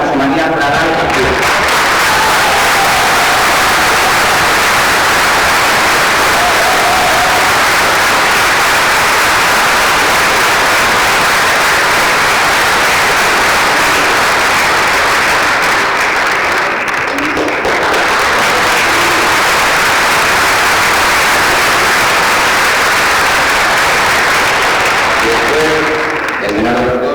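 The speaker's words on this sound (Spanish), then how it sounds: "Un aplauso para José María Prada y partido" At a tribute event for Marcelino Camacho and class unionism, a large crowd breaks into loud, sustained applause that fills the whole stretch, with a faint voice briefly audible at the start and end.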